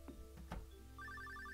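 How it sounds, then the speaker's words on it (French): Telephone ringing in Stardew Valley: a quiet, rapid electronic trill that starts after a few soft game sounds and repeats in short pulses until the end. "Il y a le téléphone."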